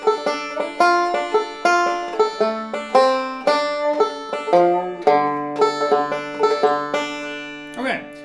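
Bluegrass banjo picks the opening four bars of Darling Corey, a bright, plucked rolling pattern with hammer-ons and ringing notes, clear and close with no talking over it.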